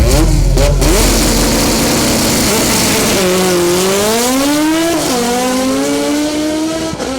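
A four-cylinder all-motor race car roars past on a test run, its engine loud and close as it revs and climbs through gears with rising and falling pitch, steady throughout with no voices.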